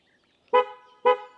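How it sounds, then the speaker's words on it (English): A Smart #3 Brabus electric car sounds its horn twice, two short loud toots about half a second apart, each with a brief tail, clear and close with no talk. "sometimes it does also honk if you press it twice"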